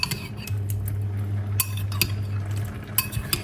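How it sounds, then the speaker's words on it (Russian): A utensil scrapes and clinks against a pan while stirring shrimp with butter, with a steady low hum underneath and a few sharp metallic taps. "Перемешаю."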